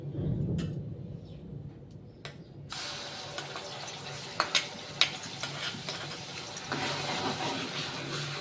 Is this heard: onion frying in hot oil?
yes